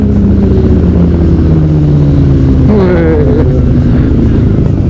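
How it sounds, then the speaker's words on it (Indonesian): Loud, steady engine roar of a Harley-Davidson Fat Bob 114 motorcycle on the move, thick with wind noise, with the engine note rising and shifting midway. "jadi motor yang gue pakai ini Fat Bob 114."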